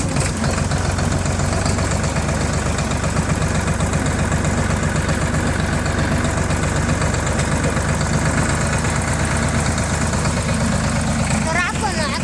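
A tractor engine runs at a farm with a steady, loud, low mechanical drone and a faint rhythmic knock throughout, and voices carry over it.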